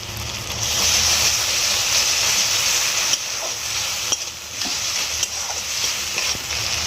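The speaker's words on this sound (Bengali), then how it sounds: "এবার আমি ভালো করে মশলাটা সব কষিয়ে নেব" A spice paste of onion, garlic, tomato and ginger fries in oil in a pan for a hilsa fish head and spinach dish, a steady close sizzle with a few soft stirring knocks.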